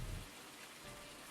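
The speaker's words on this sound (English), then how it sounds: "We are standing out in the rain." Rain falling in the Farm Simulator 19 farming game: a steady, even hiss of rain on surfaces runs throughout, with a soft low rumble near the start and no talk over it.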